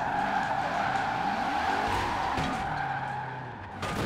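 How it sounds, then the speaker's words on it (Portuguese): A Ford Mustang Hoonigan drifts in Forza Horizon 4, its tires giving a continuous loud skidding squeal over a droning engine, steady throughout and easing slightly near the end. "Agora ficou melhor fazer drift."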